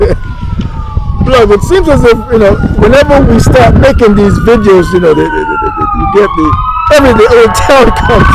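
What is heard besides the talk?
ambulance siren passing in town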